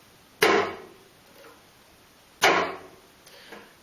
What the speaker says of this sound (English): Step number 1 is the downbow chop